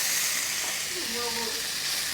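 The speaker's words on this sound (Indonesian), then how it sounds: "Bumbunya dioseng-oseng sampai dia wangi dan berwarna lebih gelap." Spice paste stir-fries in a pan for fish dish preparation, giving a steady hiss and sizzle throughout, with a faint voice murmuring underneath.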